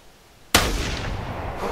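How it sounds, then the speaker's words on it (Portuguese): A single sharp rifle shot in The Hunter hunting game, fired from a prone position at an animal about 80 metres away, cracks suddenly out of quiet and leaves a long rolling echo afterward. "Disparo efetuado."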